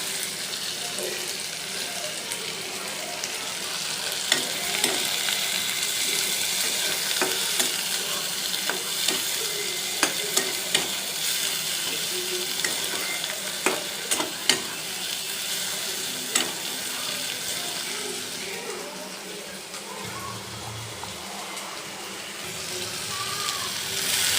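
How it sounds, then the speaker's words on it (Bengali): Food fries in a pan with a steady sizzle while it is stirred, leaving sharp scraping and clinking ticks scattered throughout, close and fairly loud, with a brief low thump near the end. "ভেজে নিব বেশি ডিপলি ভাজবো না"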